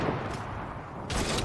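Loud, dense bursts of gunfire ring out in a video game, with a sustained roaring blast at the start and another burst near the end, close and harsh.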